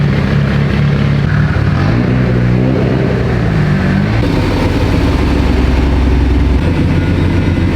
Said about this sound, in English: I have all the cars in the shop running right now, getting warmed up